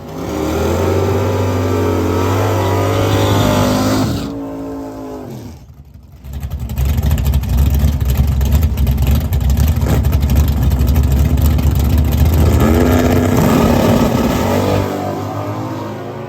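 A drag race car on radial tires with ladder bars makes a loud, close pass down the left lane of a drag strip, its engine roaring and revving hard through gear changes before the sound shifts and fades.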